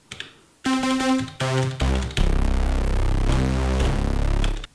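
A Digitone II synth on its swarmer engine plays a heavy, dirty bass tone: a few clean bright notes first, then a loud, fat, sustained low drone with pulsing texture.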